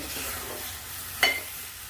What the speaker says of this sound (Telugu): ఇప్పుడు టమాటాలు అయితే వేసేసుకొని మంచిగా కలుపుకుందాం